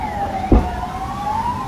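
A fire truck siren wails steadily through a fire scene in Sitio Cagban, Boracay, its tone sliding slowly upward, loud and fairly close, with a brief thump breaking in partway through.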